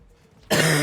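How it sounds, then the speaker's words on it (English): A person coughs while streaming a Warframe game, one abrupt harsh burst that starts suddenly and stays loud to the end. "Excuse my coughing."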